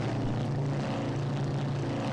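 Steady propeller engine drone of a B-26K Counter Invader in the Strike Fighters 2 flight game, a constant loud low hum with a strong tonal throb, continuous and alone with no talk.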